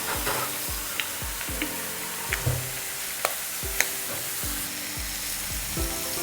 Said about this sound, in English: throw some olive oil because I want them to have the same amount of oil to fry with